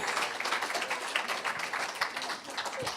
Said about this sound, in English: Round of applause for Harry and Michele.